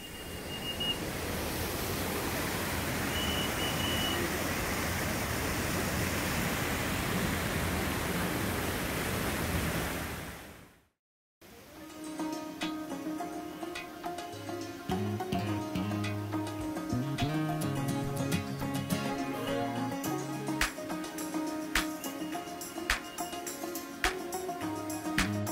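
Water pours down rocky cascades in a monsoon forest along the Andharban trail, a steady broadband rush that stops abruptly midway, followed by a quieter stretch with other sounds.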